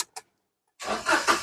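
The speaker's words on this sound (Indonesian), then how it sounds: "Oke, sekarang kita coba nyalakan mobil." Toyota Agya 1.0 TRD Sportivo manual, a 2014 hatchback, cranks briefly and catches, then settles into a loud, steady running note close by after a short pause.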